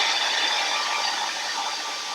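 Steady whooshing hair dryer blowing close by, drying Mod Podge on a craft block, a constant airy hiss with a faint motor whine, no talking.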